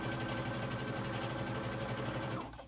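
A sewing machine stitches denim for basting Ginger Jeans in a steady, fast mechanical whir with rhythmic needle chatter, close and loud, running continuously before slowing at the end.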